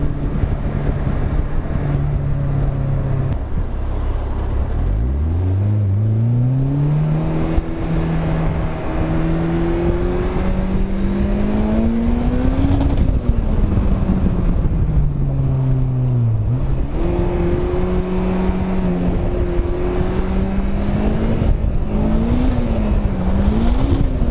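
A turbocharged Honda S2000 with over 400 bhp, running low boost, revs hard and climbs in pitch through several gear changes, loud and close with steady wind rush and no talking.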